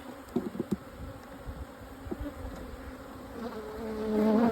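Bees buzz close by in a soft continuous hum, broken early by a few sharp taps and knocks, the drone rising louder toward the end.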